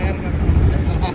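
A boat engine drones low and steady on the Brahmaputra river, a close, continuous rumble mixed with wind buffeting the microphone.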